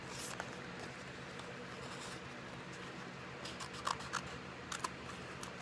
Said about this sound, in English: I'm going to cut a small patch.